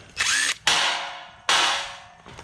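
A power drill backs two 9/32 screws out of the plastic housing of a push mower, with steady whirring bursts separated by a short pause, close and loud.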